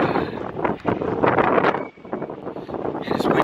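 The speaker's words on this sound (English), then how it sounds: "It's windy out here, too." Strong wind buffets the microphone in loud, gusty rumbles that rise and fall, with a brief lull midway before the roar returns.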